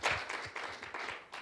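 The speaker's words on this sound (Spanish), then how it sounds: "Un aplauso para Víctor Hernández Godoy." Short burst of audience applause for a speaker at a historians' gathering, scattered claps at moderate distance, quiet and brief.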